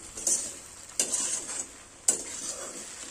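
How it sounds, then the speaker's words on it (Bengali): Bread upma gets stirred in a pan after the lid comes off: three sharp metallic scrapes and clinks of a spoon against the pan, each trailing into a soft sizzle, spaced about a second apart. "আমি ঢাকাটা খুলে নিচ্ছি, একটু নেড়ে চেড়ে নেব"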